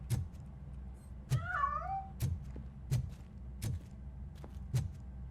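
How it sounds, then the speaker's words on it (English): A cat in the video game RoboCop: Rogue City gives a clear drawn-out meow, set among a steady series of evenly spaced thumps, close and fairly loud with no talking. "That cat must be hiding inside."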